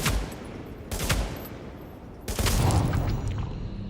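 Gunshots from The Division land in a few heavy, booming bursts, loud and close, with sustained rumbling fire toward the end and no talking.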